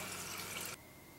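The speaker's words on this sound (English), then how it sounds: "I'm just going to pour some of this out." Honey mead being poured out for a gravity reading, a faint, steady liquid splash and trickle that stops abruptly partway through, leaving quiet room tone.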